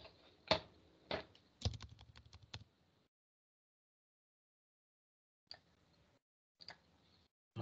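Password being typed on a computer keyboard, a quick run of crisp key clicks followed by a silent pause, then a few more sparse taps, close and fairly quiet with no talking.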